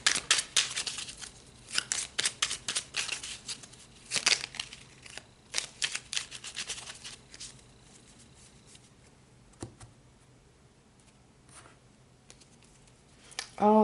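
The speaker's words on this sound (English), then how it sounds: "let's pull some more cards." Tarot cards shuffled and handled during a spring reading, crisp papery riffles and flicks clustered in the first seven seconds, then sparser card slaps and rustles, close and moderately loud with someone speaking intermittently.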